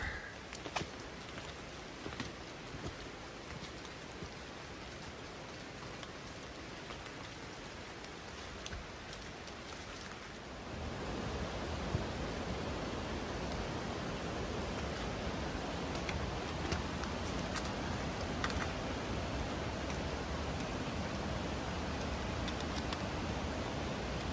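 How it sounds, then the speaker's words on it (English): Steady rain falling on a forest trail in Linville Gorge, a soft diffuse hiss that grows heavier and louder partway through, with no voices. "This rain is not gonna stop."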